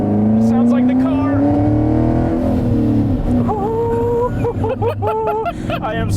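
A 2019 Chevy Camaro SS 1LE engine roars loudly up through the revs, its pitch climbing steadily, then drops into quick rising shift bursts while people talk excitedly over it.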